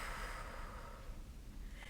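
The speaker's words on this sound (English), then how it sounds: "then you're breathing out through your mouth" A long, steady breath exhaled through the mouth, a soft airy rush heard close up and alone, holding fairly even before easing off at the end.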